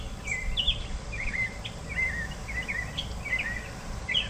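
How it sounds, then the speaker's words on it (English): Birds sing and chirp in short repeated phrases at moderate distance over a quiet, steady outdoor background hum. "I'm going to enjoy the sounds of the birds singing away"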